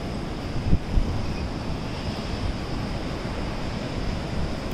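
Sea waves wash in a continuous hiss and roar on a Konkan beach, mixed with steady wind buffeting the microphone.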